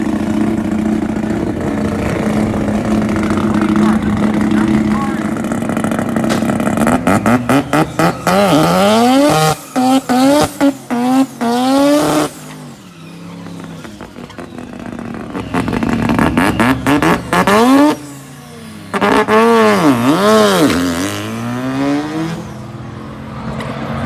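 Drag race car at Cordova Raceway making a pass: a loud, close engine roar that revs up through rising gear sweeps with sharp cutoffs between shifts, a second surge of acceleration following, no voices.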